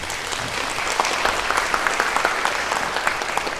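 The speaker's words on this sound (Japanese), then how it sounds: "もしたくさんあったという方は大きな拍手をお願いします。" A concert audience at a wind ensemble's summer concert applauds, dense steady clapping from many hands heard throughout, with no voices.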